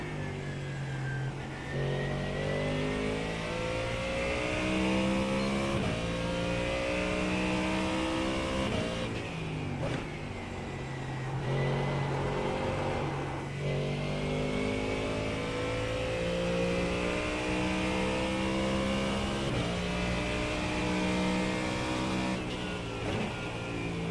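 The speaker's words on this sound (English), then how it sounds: "I'm piloting the beloved Ford Mustang GT3." Ford Mustang GT3 race car in a racing video game at Bristol, engine roaring loud and close as it climbs through gears and drops on downshifts, repeated rising and falling revs with no talking.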